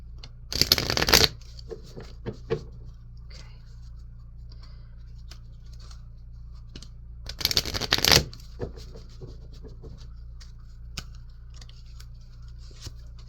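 Healing Energy Oracle cards being shuffled, two loud riffling bursts separated by a long pause, with soft handling scratches and taps in between over a faint steady hum.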